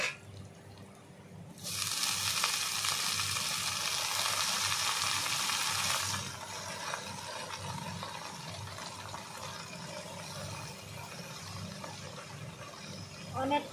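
Water spinach dropped into a hot pan, a loud burst of hissing sizzle that lasts several seconds, then settles into a quieter steady frying with faint stirring.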